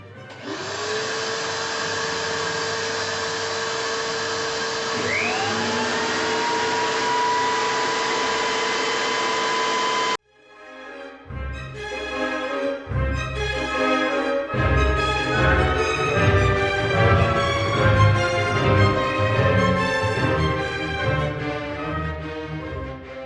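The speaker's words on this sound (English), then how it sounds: "I'm just going to fire up my dust collection here." Woodshop dust collection system running steadily and loud for about ten seconds with a tonal whine that shifts as it spins up, then cut off as a different, busier sound takes over.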